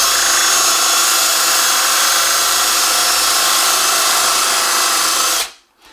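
Loud power drill boring into wood with a Forstner bit, a steady high whine with grinding and rasping, running close and without break for about five seconds before cutting off abruptly.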